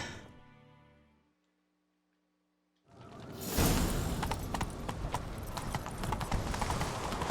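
Rapid galloping horse hoofbeats in The Witcher 3: Wild Hunt video game kick in after a brief silence, loud and steady, with rushing wind and clatter around them.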